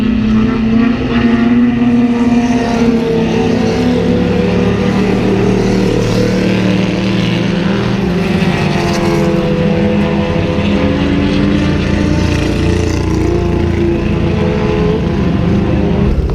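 Classic race cars built between 1949 and 1956 roar past on the circuit at the Le Mans Classic, a continuous loud mix of engine drones rising and falling as cars pass close by.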